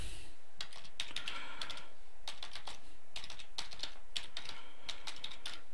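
Computer keyboard keys tapped to type a password, quick irregular bursts of clicks separated by short pauses, close and fairly clear with a faint hum beneath.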